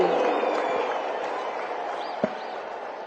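A stadium crowd applauds steadily to welcome PM Modi at the Amul golden jubilee celebration at Narendra Modi stadium, a dense wash of clapping holding level throughout with one sharp clap-like crack near the end.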